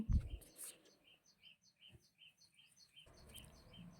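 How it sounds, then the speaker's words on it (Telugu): Sparrows chirping in a home garden, a rapid, regular series of short high tweets, fairly faint, with a low rumble at the start and end. "బ్యాక్గ్రౌండ్లో పిచ్చుక సౌండ్ వినిపిస్తుందా అండి"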